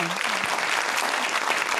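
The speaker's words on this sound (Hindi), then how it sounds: "तालियां होनी चाहिए।" A studio audience on an Eid special talk show bursts into dense, steady applause, a loud continuous wash of clapping with a brief voice at the very start.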